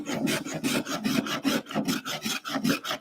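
A spokeshave takes light cuts across a wooden workpiece, producing a steady series of quick rasping strokes in an even rhythm, close and fairly loud.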